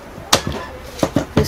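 A 12 V battery pack is clicked into a cordless screwdriver, giving several sharp close plastic clacks and knocks spaced irregularly, one loud snap followed by a quick cluster of three.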